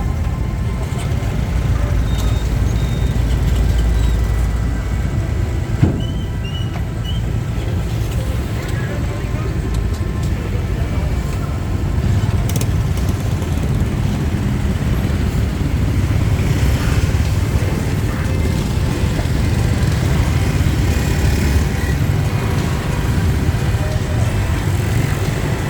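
Motorbikes roll off a ferry at a loading dock at night in Phnom Penh, Cambodia, their engines a steady mid-distance drone blended with traffic and harbour noise, with people talking over it throughout.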